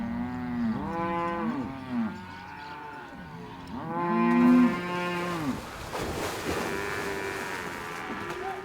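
Cattle moo repeatedly on a farm in Argentina, with several long, loud, drawn-out calls close by, ending with a brief rustling noise.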